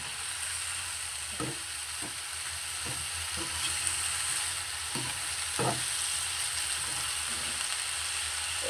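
Winter vegetables fry in a pan with a steady, close sizzle while a utensil scrapes and stirs them in several distinct strokes. No one speaks.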